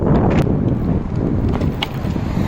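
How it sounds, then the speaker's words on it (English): Low rumbling wind buffeting the microphone outdoors on a Philadelphia street while riding an electric onewheel, continuous and gusty, with a few faint clicks and knocks. "It's windy, but it's sunny."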